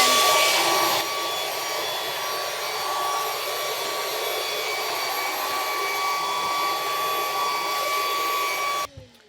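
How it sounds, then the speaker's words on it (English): A small handheld vacuum cleaner used for light cleaning on windows hums and whirs steadily and loudly at close range for about eight seconds, then switches off abruptly near the end. "you don't get Mummy's vacuum cleaner."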